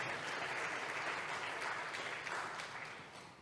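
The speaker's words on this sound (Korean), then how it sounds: "감사의 박수를 올려주시면" An audience at a Korean celebration worship service claps warmly in sustained applause, dense and even before gradually fading toward the end.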